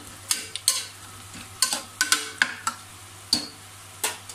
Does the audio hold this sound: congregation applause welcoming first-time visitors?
no